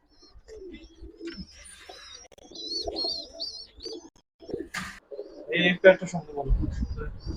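Ice checker pigeons coo in soft, low, throaty rolls, close by, with some sharper chirps between phrases and a burst of handling noise near the end.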